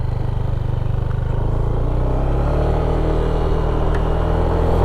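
An automatic scooter motorcycle rumbles steadily and loudly close by while being ridden, its engine droning with a low, even throb and faint clatter throughout.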